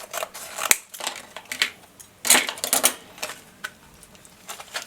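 Scissors snip through SanDisk SD card plastic blister packaging in a series of sharp, close cuts and crinkles, several quick clips in bursts with brief pauses between them.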